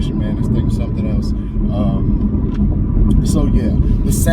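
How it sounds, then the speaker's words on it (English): A stock 2022 Chevrolet Camaro ZL1 rumbles loudly with a deep, steady engine and exhaust note close by, while someone talks over it. "The sound of this car is incredible."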